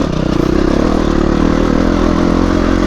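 A dirt bike engine revs loud and close on a trail, a raw, continuous motorcycle drone with a rough throbbing note that holds steady throughout, no speech over it.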